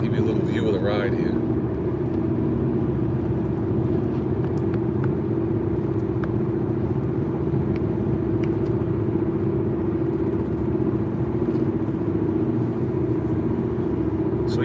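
Steady low road rumble and engine drone from inside a car cruising south on the New Jersey Turnpike, continuous and even throughout with no talk.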